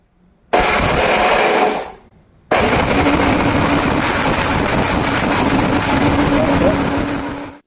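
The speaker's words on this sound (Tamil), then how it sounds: "வரமிளகா அரைக்க போகிறோம் பாருங்க" Preethi 1000-watt mixer grinder grinding dry red chillies, a loud steady motor whir with coarse grinding roar that stops briefly after about a second and a half, then restarts and runs continuously to the end.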